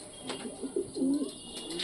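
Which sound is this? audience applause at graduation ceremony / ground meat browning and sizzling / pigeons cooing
pigeons cooing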